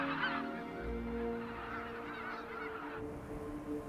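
Snow geese honk on the open summer tundra, a flock's repeated nasal calls carrying clearly over a soft outdoor background.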